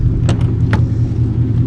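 Steady low engine rumble of a white Ford Mustang running nearby, a continuous loud drone with a few brief higher clicks or rattles over it and no talk.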